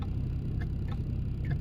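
A few soft, evenly spaced clicks of a turn signal over a low interior engine hum, brief and quiet.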